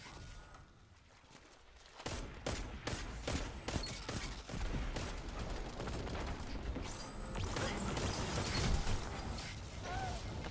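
Rapid gunfire from a Vex weapon in Destiny 2, starting after a quiet second or two and continuing as dense, fast, steady shots with mechanical clatter through to the end.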